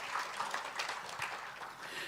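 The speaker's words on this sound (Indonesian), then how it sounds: "Boleh tepuk tangan kita buat Tuhan, saudara." A church congregation claps in applause for God during a Sunday service, a dense, steady wash of many hands heard from a distance in a reverberant hall, moderately quiet throughout.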